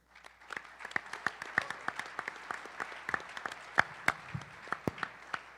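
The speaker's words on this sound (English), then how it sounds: "please welcome me in a warm round of applause for Commander Grand Mariner" A modest audience at the Tailhook 2017 convention claps to welcome a Navy commander to the stage, with distinct individual hand claps popping out of a loose, fairly sparse round of applause that runs steadily throughout.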